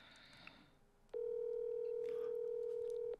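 A telephone dial tone plays while a call is placed on a Korean TV talk show: after a second of soft background noise, a loud, steady tone starts and holds unbroken for about two seconds, then cuts off.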